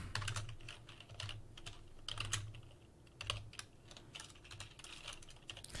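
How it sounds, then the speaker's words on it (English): Rapid typing on a computer keyboard, with irregular bursts of close clicking keystrokes and short pauses between them, and no voices. "I'm going to type it in right now"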